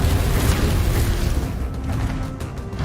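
A Confringo explosion spell booms in Hogwarts Legacy, a loud low rumbling blast that sustains and slowly decays over a few seconds, with no talk.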